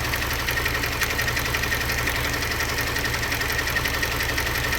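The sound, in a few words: Kia Sorento 2.0 turbo engine idling rough with misfire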